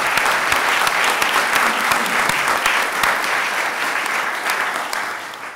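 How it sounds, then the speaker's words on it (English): A crowd applauds steadily, dense clapping that holds strong and then slowly eases off toward the end. "Clarence Sundrum, give him a round of applause."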